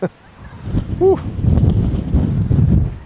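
Steady, low, blustery wind buffets and roars across the microphone, rising in strength, with a brief voice early on.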